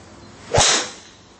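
A TaylorMade Burner SuperFast 2.0 driver strikes a golf ball in a single sharp, whip-like crack with a brief whoosh trailing away over a low background hum.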